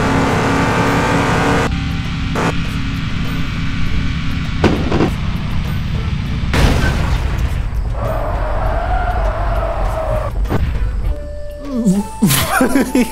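Ford Mustang engine in a car-dealer video game, a steady loud rumble running throughout with surges and bursts, a brief swell near the middle and rising tones toward the end, with someone talking over it.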